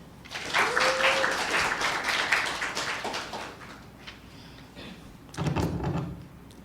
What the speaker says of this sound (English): Please, a round of applause for Heaven.